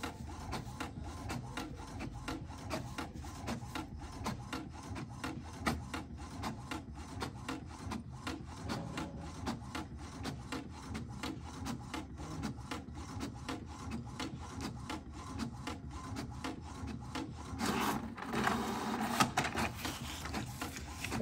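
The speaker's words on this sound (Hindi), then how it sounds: "HP में एक बहुत अच्छी चीज़ है कि ये लगातार प्रिंट आउट करता ही रहता है" An HP Ink Tank printer (GT5810/5820 or 319/419 series) printing pages continuously: a steady, fairly quiet mechanical whirring and rasping with rhythmic feed clicks, ending in a louder sweep of paper movement.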